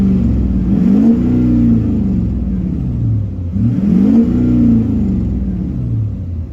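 An LBZ Duramax diesel pickup with a 5 inch straight pipe and 10 inch tip revs twice from inside the cab, each deep throaty surge rising then falling back to a heavy, loud idle rumble.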